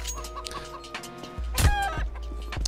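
Chicken clucking in a video game, with a few short clucks and squawks over a steady low game hum, moderately loud and close.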